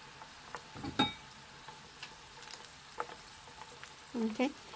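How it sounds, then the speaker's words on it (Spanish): Garlic fries in hot oil on a small stovetop griddle, a soft, low sizzle with a few faint crackles and occasional utensil taps, quiet and close, no talk over it. "Solamente lo dejé que se pusiera muy caliente y que los ajitos se, se doraran un poquito."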